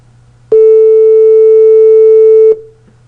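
Simple periodic test wave used in piano spectral analysis: a single steady, loud electronic tone with harmonics holds for about two seconds, then cuts off cleanly over faint background hum.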